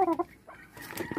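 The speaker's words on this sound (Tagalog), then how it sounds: "Bulag tong manok na to eh." A blind chicken clucks close by in a few quick, throaty bursts, followed by softer rustling and faint background sounds.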